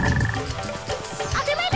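A cartoonish frog croak from Froggy in the Sonic Heroes jungle stage, a few short croaks that sit over busy game music and effects throughout.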